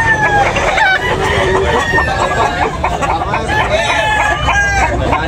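Roosters crow repeatedly at a busy chicken market, several birds overlapping in loud, drawn-out calls amid clucking and a constant crowd murmur.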